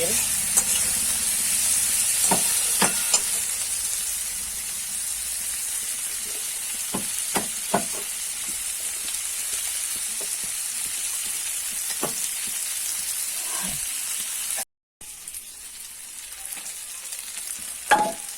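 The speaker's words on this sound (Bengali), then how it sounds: "ফুলকপি কষানো হয়ে গেছে তেল ছেড়ে ছেড়ে যাচ্ছে" Cauliflower and potato frying in oil sizzle with a steady hiss, with intermittent stirring scrapes. There is a brief dropout near the end, and no one speaks.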